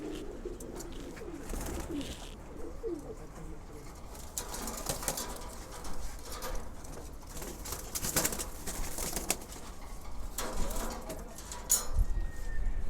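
Silver pigeons on a rooftop, repeated soft, low cooing nearby, mixed with occasional wing flaps and rustling.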